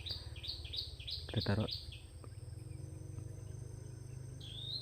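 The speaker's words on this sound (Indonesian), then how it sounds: "Suara burungnya makin banyak sekali." Wild birds call outdoors at a bird-trapping spot among branches, giving a quick run of repeated high chirps over a steady insect drone. Someone speaks briefly nearby.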